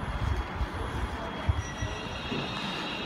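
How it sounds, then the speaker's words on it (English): A London Midland train pulls out of Milton Keynes Central station, a steady low rumble of wheels and motors close by, with faint squealing tones and a light clatter over the rails. "Departing platform number 6 is a Crewe service operated by London Midland"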